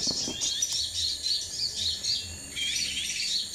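A prinia (perenjak) calling nearby, a continuous stream of high, buzzing chirps and trills that stays fairly loud throughout, with no voices.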